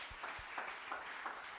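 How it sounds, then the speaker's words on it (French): A church congregation applauds with a steady, fairly distant wash of clapping for a brief moment, with no speech over it. "il faut acclamer,"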